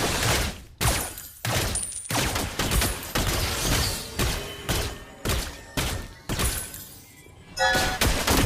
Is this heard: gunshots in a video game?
yes